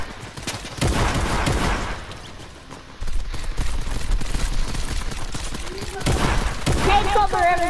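Rapid bursts of gunfire in Fortnite ring out through most of the stretch, loud and dense, with players talking over the shooting.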